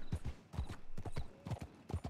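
Horse hooves clip-clop in the Red Dead Redemption 2 video game, a steady, close rhythm of paired thuds at a trotting pace with no speech over it.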